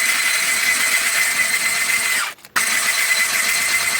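Electric hand mixer beating cake batter for a Norwegian cake, a steady loud whirring drone that cuts out briefly mid-way and then resumes at the same pitch.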